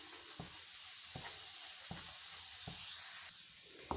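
Barfi mixture of milk and sugar syrup cooking in a pan, a steady soft sizzle and bubble broken by a stirring stroke about every three-quarters of a second.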